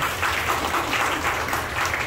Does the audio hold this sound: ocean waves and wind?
no